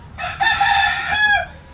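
A rooster crows once, loud and close, a single drawn-out call over faint background noise.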